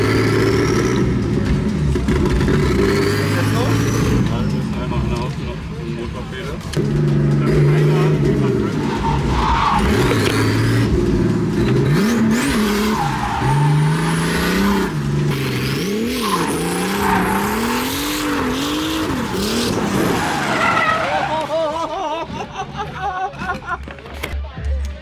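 A turbo drift car at the Irondriftking 2024 event roars continuously as its tyres skid and squeal, with rising revs and fluctuating engine pitch, all loud and close over a murmuring crowd.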